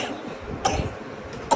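A young girl coughs twice, short sharp coughs heard up close in a quiet home room.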